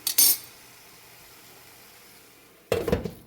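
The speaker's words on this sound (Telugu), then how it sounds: "మూత పెట్టేసి" A metal lid clatters onto a cooking pot of cabbage and coconut curry, one sharp clink early on, quiet in between, then a second louder rattling clank near the end; no voices.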